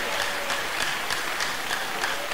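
Church congregation clapping for Jesus during a worship service: steady, fairly quiet collective clapping with a faint rhythmic pulse running throughout.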